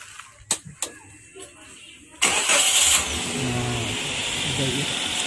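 A car engine cranks and catches after a battery jump, following a few clicks and knocks, then settles into a steady close idle while someone talks.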